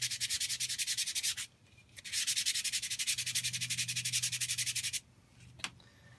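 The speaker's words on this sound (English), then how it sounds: "just giving a good sand and giving it my first round of polishing" Aluminium foil ball being sanded by hand before polishing, a steady rapid back-and-forth scratching rasp in two long bursts with a short pause between and a brief scrape near the end, close and alone.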